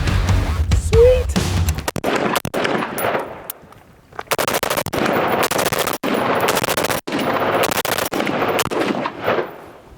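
A rifle from Battle Arms Development fires a full magazine, fast loud shots in several rapid bursts split by brief gaps, close and sharp.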